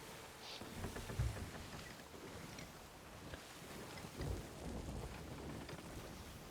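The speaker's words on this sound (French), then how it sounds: "Là on fonce dans la tempête là." Stormy weather in a multiplayer pirate video game, with steady rain hiss and low rumbling thunder swelling twice, sounding like a boat pushing through the tempest.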